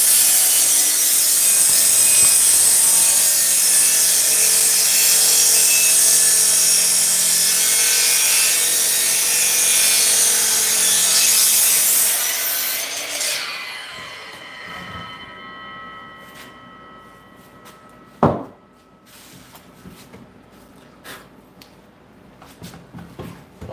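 A miter saw cuts a rough shape from a piece of wood with a loud, sustained whine and grind for about thirteen seconds, then winds down, followed by a sharp knock and a few small clatters.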